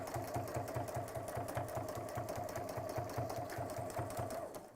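A sewing machine stitches steadily through several layers of fabric, its needle thumping in a fast, even rhythm over a continuous motor hum, close up and alone.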